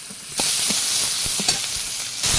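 Loud, steady sizzling of chopped onion and garlic frying in hot oil, with a few brief stirring clatters and a sudden surge of hiss partway through.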